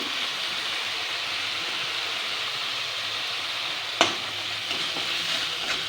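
Spice paste with cumin powder and salt sautés in a pan, a dense, even sizzling hiss broken by one sharp knock of a spoon and a few light scrapes.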